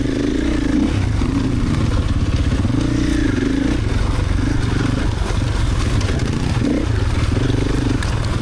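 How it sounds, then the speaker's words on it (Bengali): A motorbike rides a red-earth forest dirt trail, its engine droning loud and close throughout with uneven surges and rattling clatter from the rough ground. "চারপাশে থমথমে নীরবতা ভেদ করে শুধুমাত্র আমাদের বাইকের শব্দই শোনা যাচ্ছিল।"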